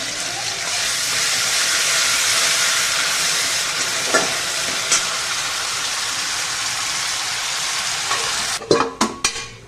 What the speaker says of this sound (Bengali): মশলাটা কষে নিচ্ছি আদা রসুন পেঁয়াজ